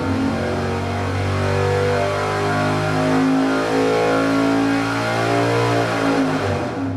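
Car engine running steadily on a dynamometer with two degrees more ignition timing, a loud continuous drone holding a near-constant pitch with slight swells, no talk.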